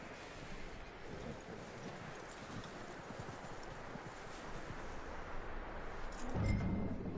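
Horse hooves clip-clop at a walking pace in the Red Dead Redemption II video game, a soft, regular beat under light wind, with a louder thump near the end.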